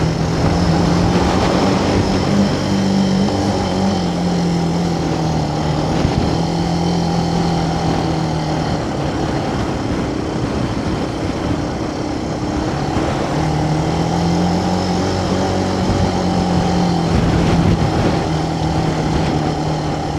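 A Benelli BN125 motorcycle climbs Hardknott Pass in the rain, its small engine droning loud and close with a steady tone that rises and falls as the rider works through the gears, with road and wind noise underneath.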